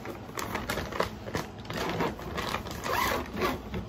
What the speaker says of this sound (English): Let me see if the zipper works.